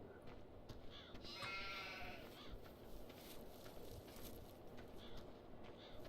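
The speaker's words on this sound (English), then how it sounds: "This is a big pasture for the sheep." Sheep bleat in a pasture in the Farming Simulator 2017 video game, a short harmonic cry standing out around the middle over a steady, busy ambient bed of game sound.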